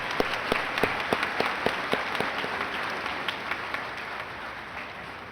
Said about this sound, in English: Please join me in giving Mr. Scipione a round of applause